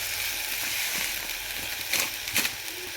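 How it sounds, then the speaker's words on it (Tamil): Sweet dough pieces sizzle steadily in hot oil, a continuous close crackling hiss with a few sharper pops toward the end. "திரும்ப இதே மாதிரி போட்டு எல்லாத்தையும் பொரிப்போம்"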